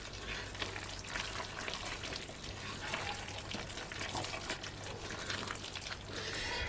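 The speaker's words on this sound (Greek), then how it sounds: "Ανακατεύουμε." Zucchini pie filling being stirred with olive oil, a soft continuous wet sizzling and squelching texture at low volume, steady with no talk.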